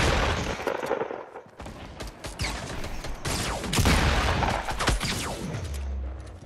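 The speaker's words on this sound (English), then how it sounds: "I got the minigun." Rapid bursts of minigun fire in Fortnite Battle Royale on PS4, loud and sustained across several volleys with short gaps, mixed with other game effects and a trailing low rumble.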